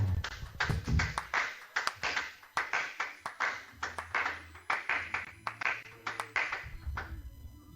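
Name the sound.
congregation applauding and acclaiming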